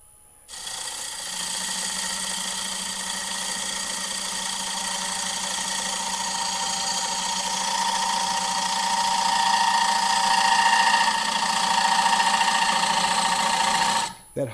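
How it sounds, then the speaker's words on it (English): A wooden bowl being turned on a wood lathe gives a harsh, steady whine with a rattling edge. The sound holds unbroken for about thirteen seconds, loud and close, with no talking. "That hollow sound you hear is the wood starting to scream and rattle on you."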